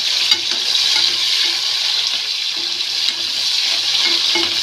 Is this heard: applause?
no